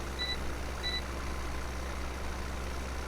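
Two short electronic reversing beeps from a vehicle in Farming Simulator 17, heard near the start over a steady low engine drone that continues alone afterward.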